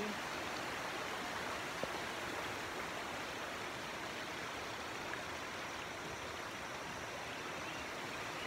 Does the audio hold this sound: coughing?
no